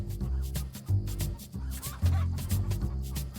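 Chickens cluck in a busy, overlapping chorus close by, with short repeated calls over a steady low background.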